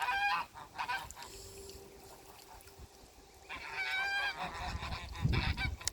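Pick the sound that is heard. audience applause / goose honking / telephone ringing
goose honking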